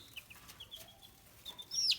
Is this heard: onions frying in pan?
no